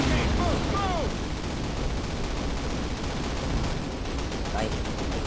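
Dense, sustained gunfire and explosions from a Call of Duty match run loud and continuous, with a few brief sweeping tones early on.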